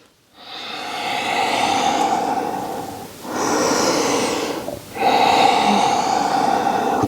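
Three long, slow breaths taken while holding a seated forward fold in a yoga session, each a steady airy exhale a couple of seconds long, close and clearly audible with no talking.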